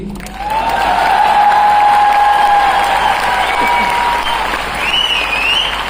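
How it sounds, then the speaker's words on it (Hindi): A large audience at an MI Lifestyle program in Nagpur bursts into loud, sustained applause for nearly six seconds, with cheering and some sustained tonal sounds rising above the clapping. "इतना ही ताली"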